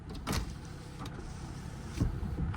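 Power windows on a Toyota car whir up and down in a few short electric motor runs, close and fairly quiet, with no talking.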